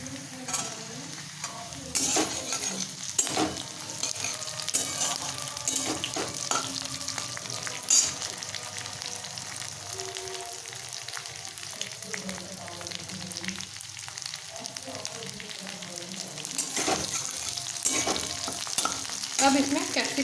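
Onions fry in a pan at a Veg Manchurian stage, a steady sizzle broken by repeated scraping stirs of a spatula, close and fairly loud, with no voices.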